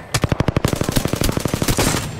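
Spitfire light machine gun in Apex Legends fires a rapid sustained burst of evenly spaced, punchy shots, loud and close, with no talk over it.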